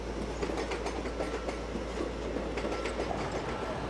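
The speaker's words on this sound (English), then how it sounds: "But local trains come and go, day and night." A train rumbles past with a steady low roar and repeated clickety-clack of wheels over rails, continuous and fairly close, with no voices.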